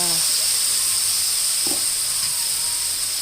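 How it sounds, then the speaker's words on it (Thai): Pork stir-fried with sweet peppers, oyster sauce, sugar and light soy sauce hisses in a hot pan, a loud, steady, close sizzle that holds throughout with no talking. "ผัดค่ะ ผัดนะคะผัดจะเข้ากันค่ะ"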